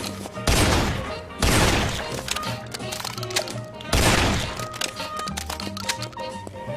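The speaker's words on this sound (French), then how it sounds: "J'ai un fusil à pompe, c'est bien un fusil à pompe." A pump-action shotgun fires in the Guns, Gore & Cannoli video game, several loud blasts with sharp attacks and decaying tails spaced a second or two apart, amid clattering game effects.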